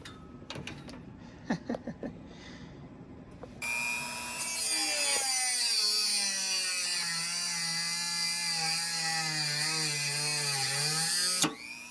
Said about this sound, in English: I'm using onboard power from the battery pack on the pit cart to power the Dremel.